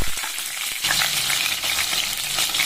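Small onions, mustard seeds and curry leaves fry in hot oil. A loud, dense sizzle with popping crackles starts abruptly after a quieter moment and carries on steadily, close up, with no talking.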